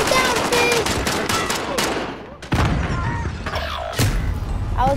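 Rapid gunfire bursts from a Call of Duty: Modern Warfare Warzone match, loud and close, with sharp repeated shots, a heavy impact midway, and a voice heard briefly over the fire.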